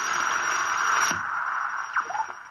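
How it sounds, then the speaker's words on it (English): Radio static in an old science-fiction radio drama, a steady hissing band of noise that thins out partway through, with a few faint clicks and brief tonal blips afterward, no speech. "Even the static's getting weaker now."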